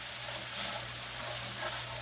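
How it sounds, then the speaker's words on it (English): Gravy for roasted chicken sizzles steadily in a hot pan, a continuous close hiss with no talk over it. "You can hear it sizzle."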